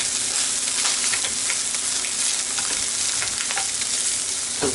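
A slice of ham fries in a hot pan on a stove that has just been switched off, producing a loud, continuous sizzle with scattered crackles and no voices.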